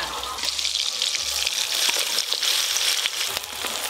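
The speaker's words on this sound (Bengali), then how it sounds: "সব গোটা মশলা মোটামুটি ভালো করে ভাজা হয়ে গেছে" Whole spices fry in hot oil with a loud, continuous crackling sizzle close by, dense and even throughout, with faint stirring scrapes now and then and no voices.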